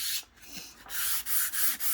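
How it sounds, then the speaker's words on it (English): A sanding pad scuffs across a wood finish in short back-and-forth strokes, a close, dry rubbing hiss with brief pauses between passes. "You can even go a bit across the grain when you're scuff sanding"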